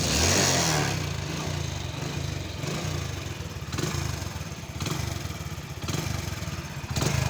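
A Honda Pride motorcycle from 2022 in excellent condition, heard close up as its engine runs through a steady throbbing idle and rises in repeated revs, loud and continuous with no voices over it.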